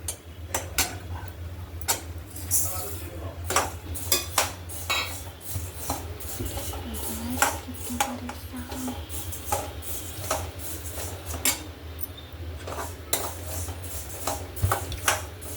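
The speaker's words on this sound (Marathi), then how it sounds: "हे सर्व साहित्य आपण एक एक करून भाजून घ्यायचं आहे." Spices dry-roasted one at a time in a pan, stirred with a metal utensil, give repeated sharp scraping clicks and taps in an irregular rhythm over a low steady hum, fairly close and moderately loud, with no talking.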